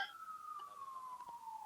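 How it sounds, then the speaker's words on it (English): A single siren wails in one long, slowly falling tone, faint and distant, heard from indoors. "I'm hearing a siren."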